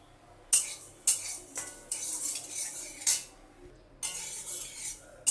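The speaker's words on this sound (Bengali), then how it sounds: "শুকনো খোলায় আমি ডালিয়াটাকে ভেজে নিচ্ছি" Broken wheat (daliya) dry roasting in a pan, with a utensil scraping and clinking against the metal in repeated strokes, close and fairly loud, each stir a brief rasp followed by a quieter swish, no talking.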